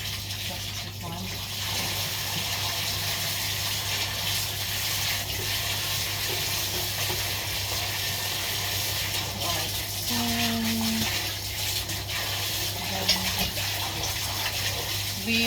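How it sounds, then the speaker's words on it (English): Tap water runs steadily while a sieve is washed in a kitchen sink during banana bread baking, a constant fairly loud wash with faint clinks and handling sounds over a low hum. "So let's just give our sieve a wash, like so."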